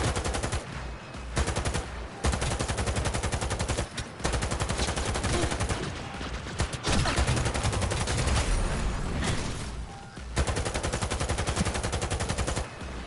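Sustained automatic gunfire in the video game Cyberpunk 2077, played on PS4, rattles in loud, dense bursts for most of the stretch, broken by a few brief pauses between volleys, with no talk over it.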